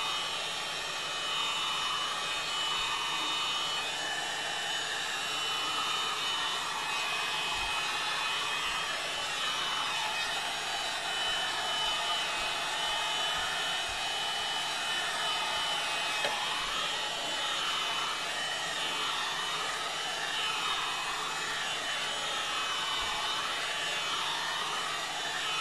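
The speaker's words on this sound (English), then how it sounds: "got my heat gun here. I'm just going to heat the board up a little bit." A heat gun blows steadily on a Super Hang On arcade circuit board, giving a continuous, even whooshing hiss that holds for the whole stretch at a close, constant level with no talking.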